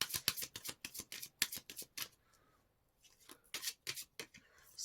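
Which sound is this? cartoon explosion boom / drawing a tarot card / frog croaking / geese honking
drawing a tarot card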